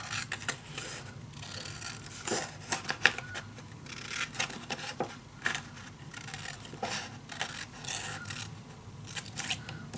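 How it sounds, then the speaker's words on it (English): Scissors cut paper for a handmade mini album: a close, steady series of crisp snipping strokes, repeated in quick irregular bursts with light paper rustling and no talking. "So I'm just gonna cut a little angle."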